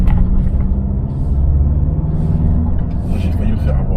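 A Ford Ranger Raptor pickup truck pulling away onto the road, its engine a steady low rumble from inside the cab, with faint higher whooshes and talk over it.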